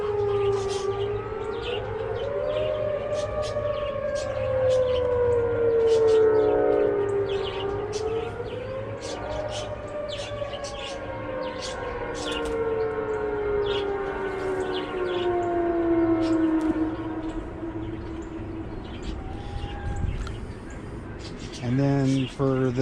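Outdoor tornado warning sirens drone in long rising and falling sweeps, several tones overlapping at moderate distance, with a voice briefly talking near the end.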